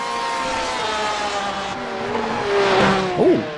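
Race car in the iRacing sim at Sonoma accelerating out of a hairpin, a steady engine drone rising in pitch with a revving surge and brief tire scrub near the end, close and loud, no talk.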